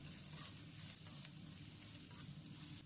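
Scallions and red chili peppers stir-frying in a wok, a faint, even sizzle with light tossing noise, quiet and without voices.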